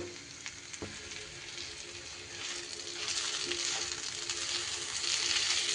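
Rice frying with spices in ghee in a pan while making a pointed gourd pulao: a loud, steady, continuous sizzle with crackling that swells slightly toward the end, with no talking.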